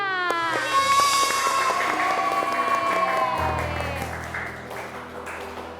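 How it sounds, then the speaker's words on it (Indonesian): Classroom applause as children clap for a newly elected class president, a dense burst of clapping that starts at once and slowly fades, mixed with a sustained tonal musical score throughout. "Tepuk tangan untuk Tiara."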